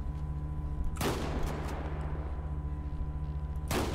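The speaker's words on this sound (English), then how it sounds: "if we see a nice buck like that, I'm gonna hop out and shoot it" Two sharp rifle gunshots from a deer hunt in GTA V, one near the start and another near the end, each ringing out over a steady low engine hum from an off-road Cummins-swapped Toyota Tundra.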